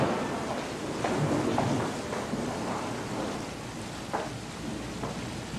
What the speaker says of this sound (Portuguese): está chovendo